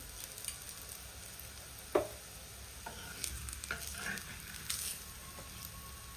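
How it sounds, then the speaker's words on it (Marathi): Mixed-vegetable paratha with fenugreek and spinach frying in oil on a pan, giving a faint, steady sizzle with a few soft clicks and scrapes scattered throughout. "पराठा टाकल्यानंतर आपल्याला असं कडेने व्यवस्थित तेल सोडायचं आहे म्हणजे आपला पराठा चांगला शेकला जातो"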